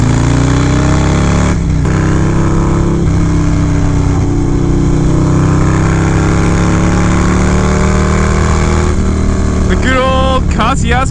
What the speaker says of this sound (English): Let's hang out with this sport bike for a little bit.